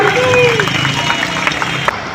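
Crowd applause for Delhi minister Ashish Sood at a public gathering in Uttam Nagar, a dense, steady wash of clapping lasting about two seconds, with a voice briefly audible near the start.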